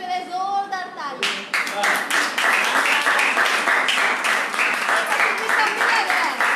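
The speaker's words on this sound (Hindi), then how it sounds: "एक बार परमेश्वर के लिए जोरदार ताली।" Church congregation breaks into loud, sustained clapping after a spoken call, the applause swelling and holding steady for several seconds.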